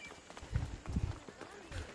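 A few low, soft hoof thuds from a horse in Assassin's Creed Origins, faint and irregular, with a voice talking over them.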